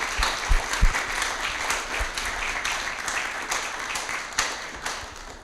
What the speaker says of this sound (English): So if we could clap loud enough for them to hear in Seattle for the Hine family.